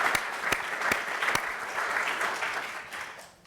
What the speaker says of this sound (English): so how about another round of applause for Johanna?